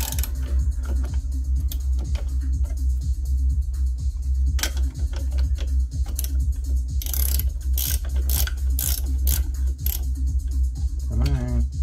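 A ratchet clicks rapidly in repeated bursts while a bolt is tightened on the front end of a 2010 Dodge Grand Caravan, close and loud, with a brief whirring spin near the end and no talk.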